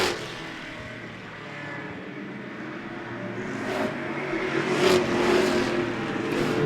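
Race cars roaring around the oval at Lee USA Speedway, a steady loud engine drone with swelling pass-bys building toward the end.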